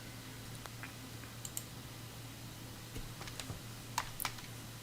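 Keys click sparsely on a computer keyboard, a few scattered taps and short bursts over a low steady hum, faint and close with no speech.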